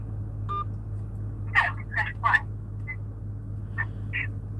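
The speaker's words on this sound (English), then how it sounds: "To accept, press 1." A short telephone keypad tone sounds once when a key is pressed to accept an incoming call on a live hotline, followed by faint, brief vocal sounds over a low hum.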